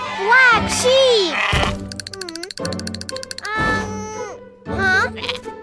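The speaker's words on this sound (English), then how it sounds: "Whoa! Black sheep!" A cartoon black sheep bleats in a children's animated farm-animal scene on a pirate ship, with wavering bleats mixed among bright childlike character voices and playful music tones.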